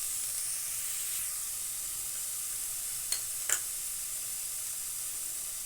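Grated tricolour momo filling being stirred in a hot pan, a steady soft sizzle and hiss with two brief sharp scrapes of the spoon against the pan.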